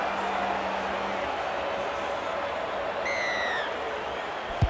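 In a rugby league video game, a stadium crowd roars steadily throughout, a dense wash of cheering with a few whistles rising near the end.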